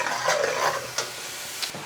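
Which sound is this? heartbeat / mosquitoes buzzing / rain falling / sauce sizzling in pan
sauce sizzling in pan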